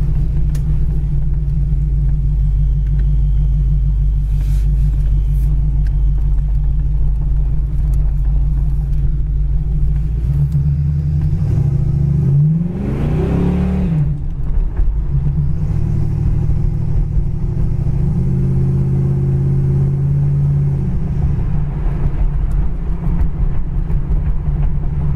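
A 1982 Oldsmobile Cutlass rolls down the road with a loud, steady low rumble from the engine, rising briefly as it picks up speed midway, then settling back into a constant drone.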